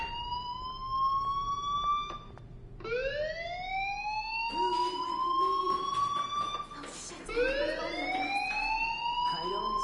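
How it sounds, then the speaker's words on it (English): A fire alarm wails in Life is Strange, a rising electronic sweep that repeats in long swoops, loud and continuous throughout. "do you hear that fire alarm? That means you should be outside."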